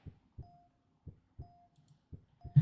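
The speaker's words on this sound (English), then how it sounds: "I feel my heart beating in my chest wildly" Heartbeat sound effect thumping in steady lub-dub pairs, four beats over under three seconds, low and dull with a faint tonal hum between some beats, no voices.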